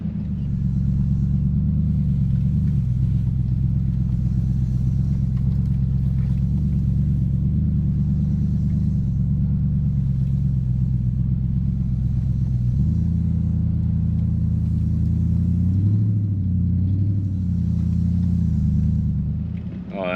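A RAM 2500 truck with rear diff lock engaged and mud tyres crawls up a soft sandy hill, its engine a deep, steady, loud rumble that rises in pitch partway through, with muffled speech inside the cab.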